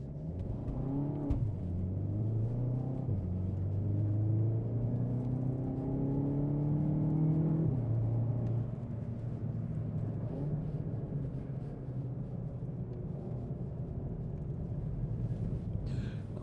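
A car laps a race track during a tyre test, its engine note climbing through the gears in rising sweeps, then settling into a steady drone as it runs on, no speech.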